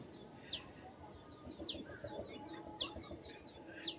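Fayoumi chickens on a farm give several short, sharp high calls at a steady pace, one roughly every second, over a constant low rustling background.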